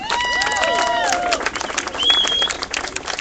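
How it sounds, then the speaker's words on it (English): A crowd claps and cheers, with loud whistles and shouts rising over the applause. "give yourselves a big round of applause for being here present"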